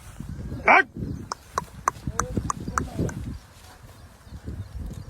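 Horses walk with regular hoof clip-clops, the rhythmic knocks clear at mid-distance, while someone talks over them and a bird calls once.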